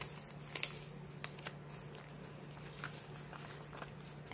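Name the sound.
folding vintage paper pages for a journal signature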